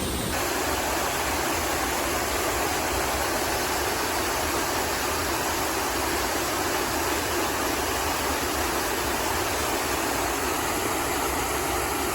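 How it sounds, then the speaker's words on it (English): A steady, dense rush of falling water fills the whole stretch, constant and loud with no pauses or voices. "Loving this waterfall"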